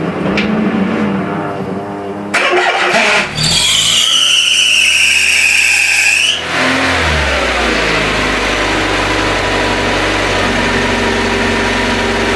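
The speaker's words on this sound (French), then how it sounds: "Je vais quand même te montrer la nervosité du moteur Cléon 1 litre 4 C2J" A Renault 11's Cléon 1.4-litre C2J engine with a Weber 32 DRT carburettor revs hard close by, climbing to a loud high pitch, then dropping back to a rough steady idle that runs on alone.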